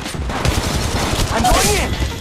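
Bursts of Apex Legends Mobile gunfire rattle quickly and close up during a firefight, with a short whining ricochet-like sweep near the end and a voice talking underneath.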